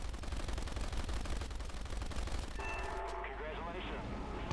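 .50 cal machine guns fire in War Thunder in rapid, continuous, loud bursts. Shots rattle steadily for about two and a half seconds, then the fire carries on under other game sounds and a blaring tone.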